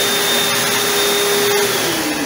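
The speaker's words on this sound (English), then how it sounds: "air blower." A restaurant restroom's electric air-blower hand dryer roars loud and steady at close range, a constant whooshing drone with a whining tone that dips slightly in pitch toward the end.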